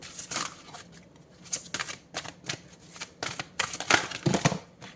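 Tarot cards being shuffled and drawn, a run of crisp riffling bursts and flicks with short pauses between them, close and fairly loud, with no talking.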